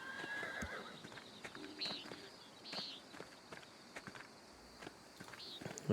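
In the video game Pentiment, horses whinny a few times in short high calls while hooves clip-clop in a steady walking rhythm, faint and close, set over a quiet background.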